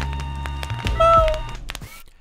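A cat meows once in the video game Deponia, a short, clear tonal call over background game music and effects.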